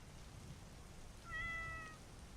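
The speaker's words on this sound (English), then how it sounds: "It's just the cat." A cat gives a single short meow midway through, quiet but clear over a steady background of soft rain.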